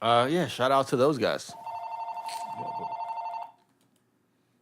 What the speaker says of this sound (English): sorry for the house phone ringing